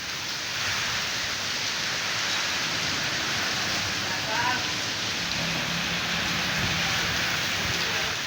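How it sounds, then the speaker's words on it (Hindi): Heavy torrential rain pours in a steady, dense hiss with no break, a constant wash of falling water at moderate distance. "मुल्क के मुख्तलिफ अजला में तूफानी बारिशें"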